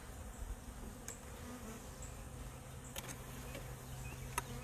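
Honey bees buzz steadily around hive frames being worked, a faint, continuous insect drone with a few brief sharper clicks and knocks.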